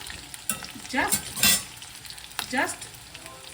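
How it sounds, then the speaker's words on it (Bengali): Potatoes fry in a pan for khichdi under a soft constant sizzle, while a utensil scrapes and stirs in three or four distinct bursts close by. "তোমাদের সঙ্গে কথা বলতে বলতে আমার আলুটাও কিন্তু ভাজা হয়ে গেছে"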